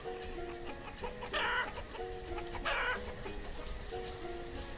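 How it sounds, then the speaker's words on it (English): Chickens cluck and a rooster crows in the colonial village-building game Banished, a steady patter of rain underneath and repeated clucking phrases, with no talking. "You actually see the little baby chickens."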